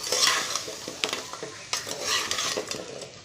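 Eggplant sautéing in sesame oil in a pan, a bright close sizzle with frequent stirring clinks and scrapes of a utensil against the metal, no one talking.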